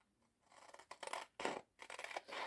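Scissors trim the edges of a paper sublimation wrap for a Dollar Tree tumbler. Close, crisp snips and slicing strokes come in several short bursts with brief pauses between them.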